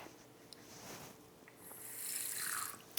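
Water runs from a tap and splashes into a small pot, swelling louder toward the end, with a few light clinks.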